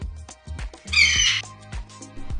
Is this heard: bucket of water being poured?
no